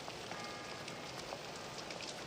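Steady rain falls outdoors near a boathouse, an even, soft hiss of drops with faint scattered patters and no voices.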